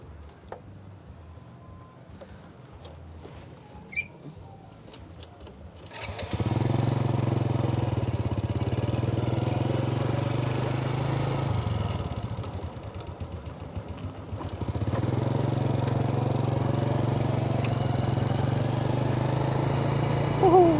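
A motorcycle riding past an orange orchard, its engine puttering quietly at first, then rising to a steady, close drone that dips briefly before running on strongly.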